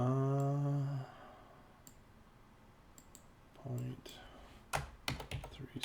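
Computer keyboard typing and mouse clicking while working in SolidWorks, scattered close clicks and a quick burst of keystrokes toward the end, after a brief hum at the start.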